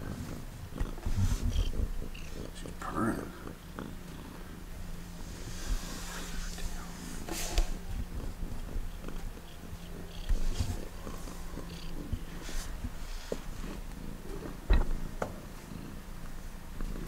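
A cat purrs steadily up close, a low continuous rumble with faint background noises and no talking.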